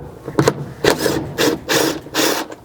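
A ratchet turning a 10mm socket to take out a tow hook bolt on a 100 Series Land Cruiser gives five loud, close rasping bursts in a steady back-and-forth rhythm, with no talk.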